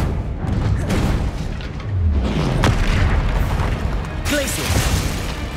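Loud, dense booms and bursts of spell impacts fill Hogwarts Legacy combat, including an Expelliarmus hit. Heavy low rumbling continues throughout, and a voice speaks over the din.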